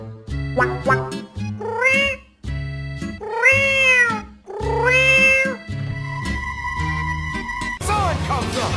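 A dirty cat meows repeatedly in long, rising and falling wails, loud and close, with a short pause midway and a steady tone and rustling near the end.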